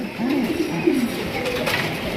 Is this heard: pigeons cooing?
yes